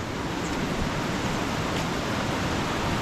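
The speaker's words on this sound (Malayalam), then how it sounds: "വെള്ളച്ചാട്ടത്തിലേക്ക് എത്തി" A main waterfall roars as a steady, dense wash of falling water, loud and unbroken from start to finish with no voices.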